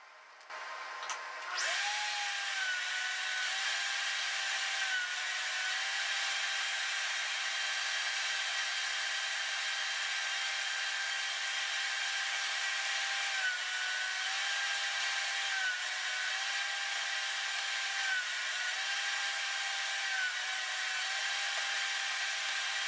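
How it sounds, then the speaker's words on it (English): Router plunged into MDF cutting a deeper dado, a steady high-pitched whine running continuously and loudly after a brief start, with slight pitch dips as the bit loads in the cut; no talking. "Here I'm raising the height of the router bit to cut a deeper dado."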